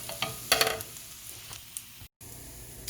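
Potatoes and onions fry in a pan over medium-low heat with a soft, continuous sizzle, a few brief scrapes and clinks near the start, then a quiet steady crackle.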